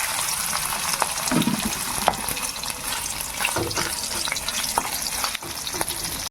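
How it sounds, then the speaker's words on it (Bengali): Mutton fat rendering in a little oil in a pan gives a steady, dense sizzle that runs throughout at close range, with a few light clinks from stirring and no talk. "বন্ধুরা ঘিয়ের মতন যে চর্বিগুলো, ওই চর্বিগুলো আমি তেলের মধ্যে দেব"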